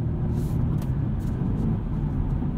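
A 2022 BMW 230i Coupe with an 8-speed automatic cruises along, its steady low engine and road drone filling the cabin without a break, with no talk.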